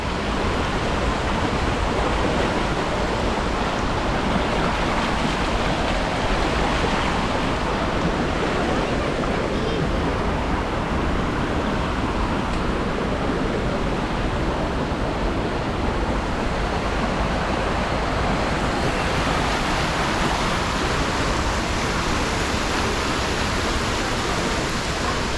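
Düden waterfall and stream in Antalya pour in a dense, continuous roar of rushing water, loud and unbroken for the whole stretch.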